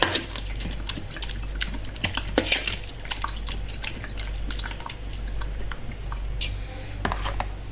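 Grape pulp is pressed and squeezed in a bowl to draw out juice for koruk sherbet. Wet squelching, dripping and faint scraping of utensils run steadily, fairly quiet and close, with no talk.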